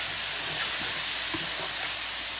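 Lamb keema sizzling in a heavy-based pan as canned tomatoes are stirred through, a steady close hiss of frying with soft scraping stir sounds and small pops, no voices.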